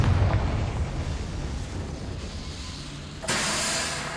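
A Confringo spell blast in Hogwarts Legacy: a loud, rumbling explosive burst with a hissing tail, followed after a few seconds by a sudden brighter hiss of a second impact, no talking.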